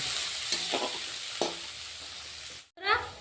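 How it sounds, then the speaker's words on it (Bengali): Onions fry in hot oil while being browned for a katla fish curry with gathi kochu, giving a steady sizzle with a couple of stirring scrapes, a brief dropout, then a renewed surge of frying. "পেঁয়াজগুলি আমি লাল করে ভেজে নেব"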